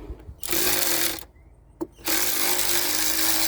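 A power tool fitted with an extension whirs loudly in two long runs with a brief pause between, taking a part off a 2011 Chevy Avalanche during a tensioner and belt swap.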